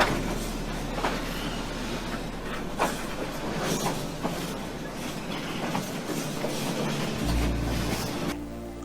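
Train on the Death Railway route in Thailand rumbling along with rhythmic clicking of wheels on track, a steady loud rolling roar that shifts to a deeper hum near the end.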